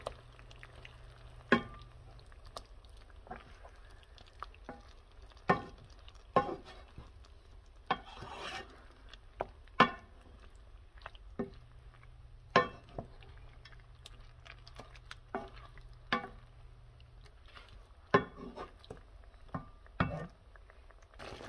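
Lemon sauce tossed over spinach ricotta ravioli in a pan: a faint simmer underneath with sharp, irregular clinks and scrapes of a utensil against the pan, spaced every second or two.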